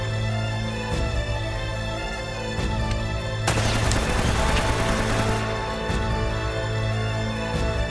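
Gunfire in the video game Uncharted, with scattered single shots and a dense burst of rapid fire in the middle, over a steady droning background.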